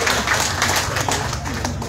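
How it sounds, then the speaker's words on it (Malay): A seated audience at a Johor state election campaign rally claps for the candidate in a brief, busy patter of hands that carries on steadily without a clear peak. "Tepukan paling kemudian untuk calon kita yang masih bujang"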